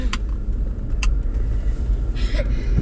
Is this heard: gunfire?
no